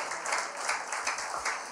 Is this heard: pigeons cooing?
no